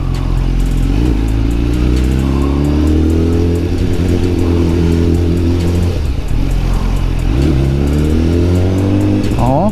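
A motorcycle rides through congested city traffic, its engine droning loud and close throughout with repeated rising revs and gear shifts, while a rider talks briefly over the noise.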